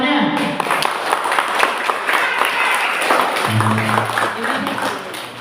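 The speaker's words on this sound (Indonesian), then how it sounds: "Mana tepuk tangannya?" Audience applause fills a competition grand final, a steady wash of clapping held at even loudness throughout, with a voice briefly rising over it partway through.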